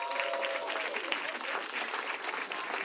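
A comedy audience claps in response to a question from the stage, with steady, moderate applause and a few voices and whoops mixed in across the short burst.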